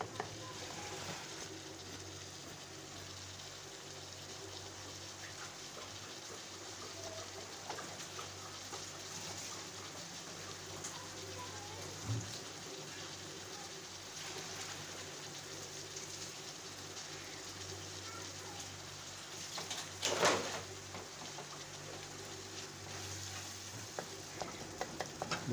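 Chopped chicken liver (kaleji) fries in a pan as a wooden spoon stirs it, giving a steady low sizzle with scraping and occasional clacks, faint and continuous throughout.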